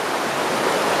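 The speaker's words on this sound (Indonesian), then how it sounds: "Kita sedang menyeberangi sungai." River water rushes steadily and loudly close by as someone wades across a river, a dense continuous hiss with no other sounds.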